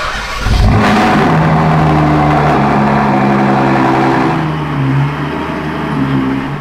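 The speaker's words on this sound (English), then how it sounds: "I've not heard this car starting up" A car in a garage cranks and fires up with a loud burst, then settles into a steady, rumbling idle with slight rises in revs, close and alone.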